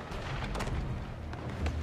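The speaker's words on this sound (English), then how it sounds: "Watch for cannon fire." Cannon fire booms in the video game Shadow Tactics: Blades of the Shogun, with several heavy, muffled blasts rolling over one another in quick succession through a dense, rumbling soundscape.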